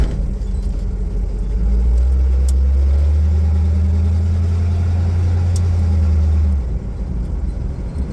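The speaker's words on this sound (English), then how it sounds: "exhaust is just so noisy" A loud 1936 Chevy truck engine rumbles close by, its noisy exhaust droning heavily and swelling in the middle before easing back to idle.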